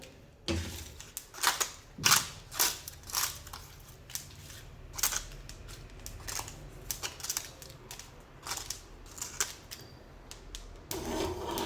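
Bay leaves and spices dry-roasting in a pan for a masala paste, giving irregular dry crackles, taps and scraping rustles up close, with no one talking.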